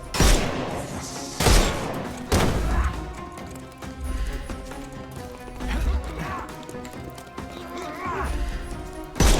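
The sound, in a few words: gunshots in Sherlock Holmes Chapter One video game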